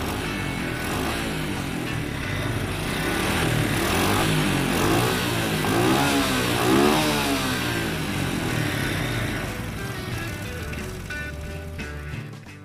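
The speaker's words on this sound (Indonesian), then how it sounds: "Sekarang kita geber motornya biar aki cepat mengisi." A motorcycle engine revs steadily to charge its battery, its pitch rising and falling in a broad mechanical roar up close, then easing toward the end.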